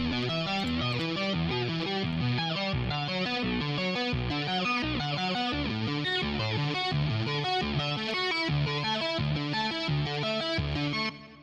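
A gritty, distorted synth guitar preset in the UVI Falcon synthesizer plays a steady riff of rapid notes, loud and continuous, ending with a brief pitch bend.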